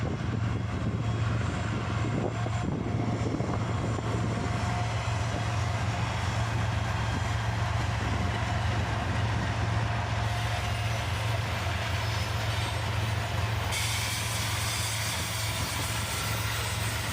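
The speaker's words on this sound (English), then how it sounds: "A 3-unit CSX lash-up with an ET44AH, an ES40DC, and an SD40-3." A three-unit CSX freight lash-up led by an ET44AH, ES40DC and SD40-3 locomotives rumbles with a deep, steady diesel drone and a strong low hum that holds throughout at constant loudness.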